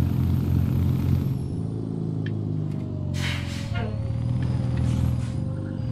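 A truck driving in American Truck Simulator, with a steady low engine rumble and road drone throughout, a few short hissing bursts over the top and a voice talking now and then.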